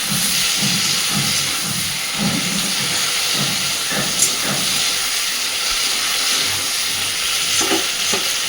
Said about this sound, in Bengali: আমি কিন্তু মশলার সাথে আলু বেগুনটাকে একসাথে দিয়ে ভাজবো